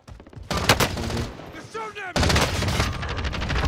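Rapid bursts of automatic gunfire in an online multiplayer shooter game, loud sustained volleys in two stretches with a brief quieter gap, while players talk excitedly over the shooting.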